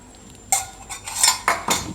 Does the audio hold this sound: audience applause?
no